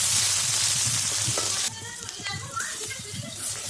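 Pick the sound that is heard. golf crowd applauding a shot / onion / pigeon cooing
onion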